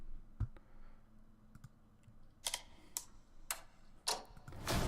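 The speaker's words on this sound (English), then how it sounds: "that like clicking sound is something they've been doing in trailers lately" Sharp mechanical clicks from the Solo: A Star Wars Story teaser trailer come as scattered single ticks, then louder, crisper bursts spaced irregularly over a quiet low rumble, with no speech.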